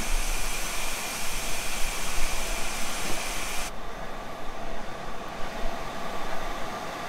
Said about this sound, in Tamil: நான் ஏதோ பண்ண போய் ட்ரெயின் கிளம்பிடுச்சு